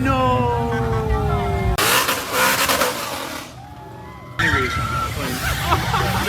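A car does a burnout with the e-brake dragged, its tires squealing and skidding under a loud engine roar that cuts off abruptly partway through, then returns with harsh noise; voices may be mixed in.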